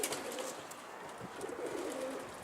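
Pigeons coo at a loft, soft repeated throaty calls heard faintly at a moderate distance over a light, steady outdoor background.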